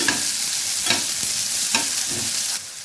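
Onions frying in a pan for a mushroom curry, with a loud, dense sizzle and a regular rhythm of stirring strokes, close up, with no talk.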